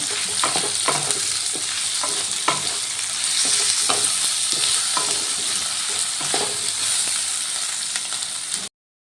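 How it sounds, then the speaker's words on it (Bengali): Ginger paste and chili powder sizzle steadily as they are stir-fried in a pan for a banana flower curry, with a continuous hiss broken by repeated scraping strokes of a spatula, close and fairly loud. "এরপর দিয়ে দিলাম এক চামচ আদা বাঁটা আর দিয়ে দিলাম এক চামচ লঙ্কা গুঁড়ো এবার সব কিছু ভালো করে কষিয়ে নেব"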